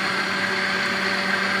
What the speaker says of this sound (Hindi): जी तो हमने मशीन को चला दिया है और इसको हम बिल्कुल बारीक पीस लेंगे